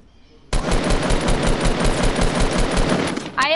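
A sudden, sustained burst of rapid machine-gun fire erupts in a video game match, loud and close, running continuously for several seconds after a quiet start.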